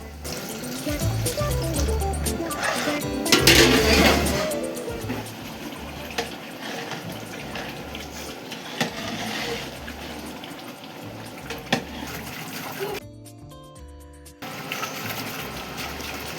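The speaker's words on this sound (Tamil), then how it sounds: "சிறிது தண்ணீர் சேர்த்து கொள்ளவும்." Water pours steadily into a pot of mutton curry for seeraga samba biryani, a continuous splashing stream that stops abruptly near the end before resuming, close and fairly loud.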